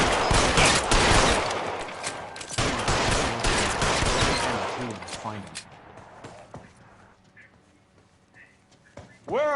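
Gunfire in the L.A. Noire video game: dense, loud bursts of shots in rapid succession early on that thin out into scattered reports. Voices speak during the exchange.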